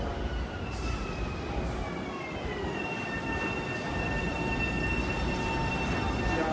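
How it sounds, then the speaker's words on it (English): A Long Island Rail Road train pulling into Jamaica station in steady broadband rumble, with faint high wheel-squeal tones drifting across the platform noise; no voices. "Train of Wanto now arriving track 7"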